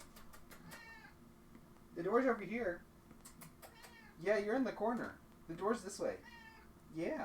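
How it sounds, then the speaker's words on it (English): A house cat meows repeatedly near a door in several short wavering bursts, with people talking softly over and between the calls. "I think the cat wants out now."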